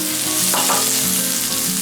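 Onion is stir-fried in hot oil with garlic and grated ginger over high heat, giving a loud, continuous sizzle broken by a spatula scrape partway through.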